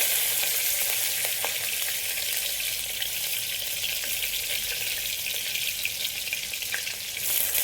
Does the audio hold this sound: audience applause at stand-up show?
no